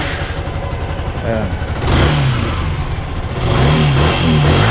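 A Yamaha R15 v2 motorcycle with misfiring and hard-starting trouble turns over and catches, its engine rising into revs in two louder surges under brief talk.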